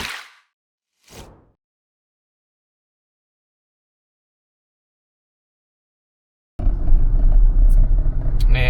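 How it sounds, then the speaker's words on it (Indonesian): Interior of a diesel Toyota Innova on the road, a low rumbling engine and road noise that cuts in loudly near the end after a long silence, preceded by two brief soft whooshes. "Nih aku pakainya mobil Innova diesel loh."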